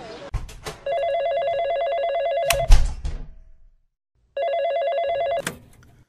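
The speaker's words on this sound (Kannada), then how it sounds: "ಒಂದ್ ಸೆಕೆಂಡ್ ಇರು, ಫೋನ್ ರಿಸೀವ್ ಮಾಡಿ ಬರ್ತೀನಿ." An indoor telephone rings loud and near with a steady electronic trill in two bursts separated by a short silence. A few thuds and rustles come between the bursts.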